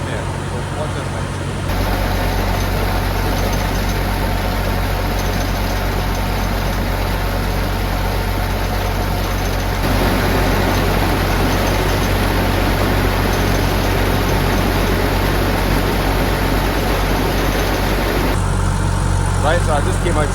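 An engine whose pump has not been adjusted runs steadily for about twenty seconds with a constant, loud, low drone and a high whine. The sound changes slightly partway through.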